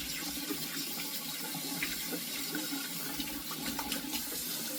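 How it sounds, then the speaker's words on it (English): A kitchen tap runs steadily while buttery hands are washed beneath it, a close, continuous splashing hiss of water with a few small irregular spatters. "So, sorry if that water's loud."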